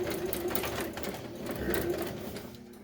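A sewing machine back-stitches car seat upholstery for a 1966 GMC seat bottom, running as a steady, close, continuous whir throughout with no talk over it.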